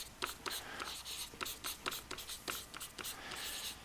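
Pen scratching across paper while working a polynomial synthetic division problem, a close, steady run of short strokes and taps with no talking.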